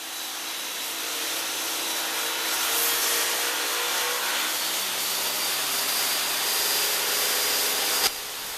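Table saw fitted with a dado blade set for a 5/16 inch cut runs a single pass through a board, a steady loud broadband whine with the cut deepening midway and ending abruptly near the close, no talk.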